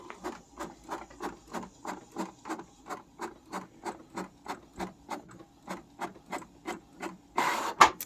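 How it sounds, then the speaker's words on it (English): An inkjet printer prints A5 planner inserts, its print head sweeping back and forth in a quick, regular train of about twenty rasping passes, close and fairly quiet, ending in a brief louder mechanical whir. "pop it back in, and then click start printing again"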